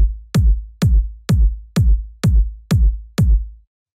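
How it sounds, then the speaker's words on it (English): Seven deep, punchy electronic kick drum hits from a minimal tech house track in a steady even pulse, each with a sharp click attack and a booming low tail, loud and isolated. "the first sound we have here is the kick"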